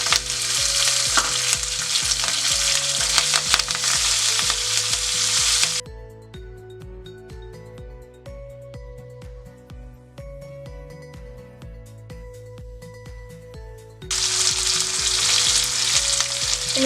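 Tomatoes sizzle loudly in a hot pan for parippu rasam, a steady bright crackle with stirring that drops to a quieter bubbling midway, then flares up again near the end.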